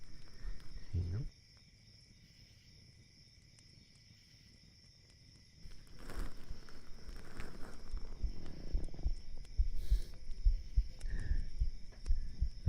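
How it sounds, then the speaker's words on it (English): Real human heartbeat picked up by a binaural microphone, low soft thumps in a quiet room, faint at first and growing louder and more rhythmic toward the end. "There's my heartbeat."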